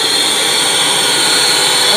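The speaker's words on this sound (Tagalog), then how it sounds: "Inko vacuum cleaner." A repaired INGCO 1300W vacuum cleaner runs at full power after a no-power motor fault, giving off a loud, steady, high-pitched whine close by for the whole moment.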